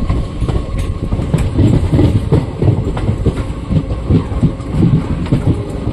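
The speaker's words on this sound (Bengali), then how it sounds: "ওই ট্রেনটা যাচ্ছে তুফানগঞ্জে যাবে" A train on the line toward Tufanganj rumbles past nearby at New Cooch Behar, a loud continuous heavy roar with rhythmic wheel clatter throughout and no voices.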